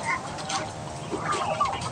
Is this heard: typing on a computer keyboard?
no